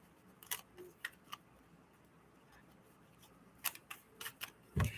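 Tarot cards being shuffled by hand in a quiet room, producing scattered soft riffling and tapping bursts, with a louder cluster of quick card flicks near the end.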